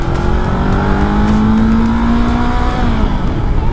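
A Honda Hornet 500 motorcycle pulls hard on a test ride, its engine note rising steadily through the revs as it accelerates, loud and close, with steady wind rush and no talking.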